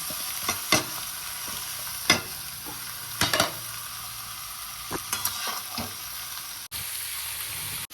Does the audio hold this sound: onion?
yes